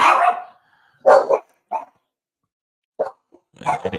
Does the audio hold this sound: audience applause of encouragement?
no